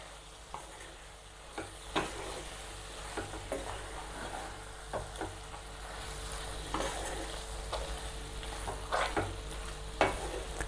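Egg masala roast is stirred in a pan: a quiet, constant sizzle carries repeated knocks and scrapes of a spoon against the pan at an irregular pace.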